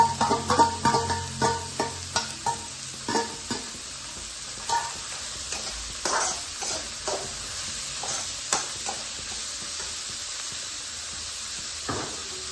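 Green chilli and ginger with cabbage sautéing in a pan: a continuous hissing sizzle with a quick run of rhythmic stirring scrapes at first, then slower, scattered clanks of the spoon.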